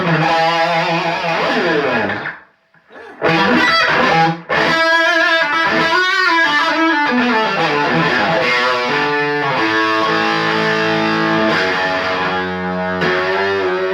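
Electric guitar through a Fender '65 Princeton Reverb Reissue tube amp with a Tube Screamer overdrive pedal, heavy overdriven tone playing chords and sustained, ringing notes, with a brief pause early on, loud and close throughout.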